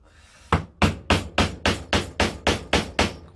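Hammer blows on a metal rivet setting a leather dog collar: nine sharp, evenly spaced strikes about a third of a second apart, close and loud, with no talking.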